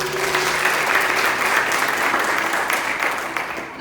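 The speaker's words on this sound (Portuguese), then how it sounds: "Você pode aplaudir ao Senhor?" A church congregation applauds steadily and continuously, a dense wash of clapping filling the space from start to finish with faint voices mixed underneath.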